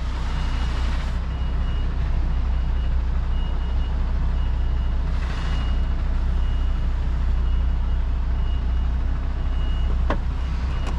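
An HGV tractor unit with trailer reverses into a small street, its engine a constant loud rumble with a couple of brief reversing beeps sounding over it, and no voices.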